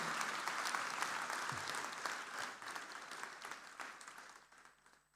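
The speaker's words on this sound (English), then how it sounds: "let's give another round of applause to the diploma holders for their hard work and determination in achieving this award today" Applause for diploma holders at a university graduation ceremony in Sri Lanka: a hall full of audience members clapping steadily, sustained for several seconds before gradually thinning and fading out.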